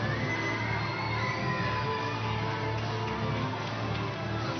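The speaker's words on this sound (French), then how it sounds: "Sous les applaudissements du public venu nombreux soutenir les équipes" Large crowd at a women's football match as the German players walk out, full of cheering and shouting with many schoolchildren's voices, a dense, steady roar of applause throughout.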